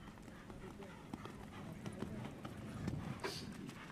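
Horses gallop over a CCI2* long-format cross-country course, with soft, fairly distant hoofbeats running under steady commentary.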